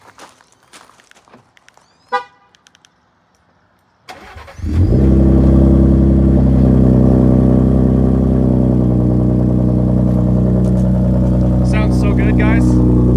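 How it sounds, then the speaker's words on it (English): A Ford 3.5 EcoBoost truck with an SPD muffler exhaust cranks and fires up after a few quiet clicks and a short chirp, then settles into a loud, steady deep idle. "let's go ahead and give it a start up, see how it sounds with our SPD muffler back on there"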